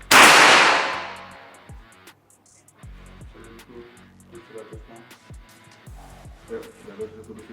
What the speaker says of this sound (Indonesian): Oke, tembakan yang pertama.